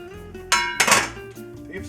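A lid is set onto a pan of potatoes on the stove, a sharp metallic clank followed by a brief rattling clatter as it settles, close and loud against a faint background hum.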